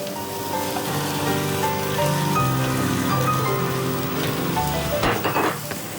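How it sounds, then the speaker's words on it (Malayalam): Grated coconut being stirred into chicken thoran with kanthari chilli in a hot pan, a steady sizzle with scraping and stirring sounds running throughout at close range, louder near the end. "തേങ്ങയും കൂടി ചേർത്തിങ്ങനെ നന്നായിട്ട് ഇളക്കി ചോദിച്ചു"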